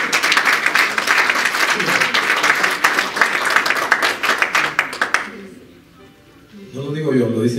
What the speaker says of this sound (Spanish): Nosotros le damos un fuerte aplauso al Señor.